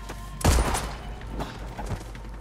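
A single loud gunshot in an action film, a shot to the back of the head, with a heavy low boom, followed by a couple of fainter thuds and scattered noise.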